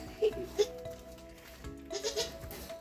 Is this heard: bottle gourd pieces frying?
no